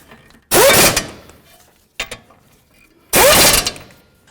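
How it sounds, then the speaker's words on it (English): A ratchet fitted with a 21 mm socket tightens the caliper mounting bolts on a 2008–2012 Jeep Liberty, giving two short, loud, close runs of rapid clicking with a brief tick between them. "we're going to use our 21 millimeter and bottom these out"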